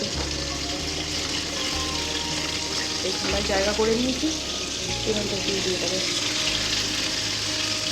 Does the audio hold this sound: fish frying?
yes